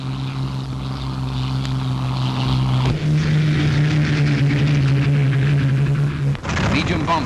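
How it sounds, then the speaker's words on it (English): Propeller engines of WWII Mustang fighters flown by Polish pilots drone steadily in a newsreel, with a deep hum that shifts pitch midway and a sudden change near the end, under a narrator's voice. "Mustangs flown by the Poles who'd fought in the Battle of Britain"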